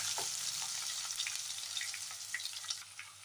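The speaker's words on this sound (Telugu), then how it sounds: "పోపులు ఈ విధంగా వేగిపోయాక ముందుగా కట్ చేసి పక్కన పెట్టుకున్న పచ్చిమిర్చి వేసుకుందాం." Chopped green chilies sizzle in hot oil with mustard-seed tempering and dried red chilies, a steady bright crackling fry with small pops close by.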